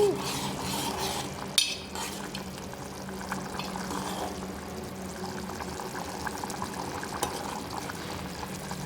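A ladle stirs taro tamarind stew sweetened with jaggery in a pot, giving close, soft scraping and sloshing with a few sharper clinks against the metal over a steady bubbling background.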